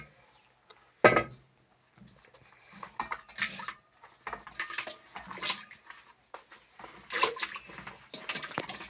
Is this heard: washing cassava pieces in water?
yes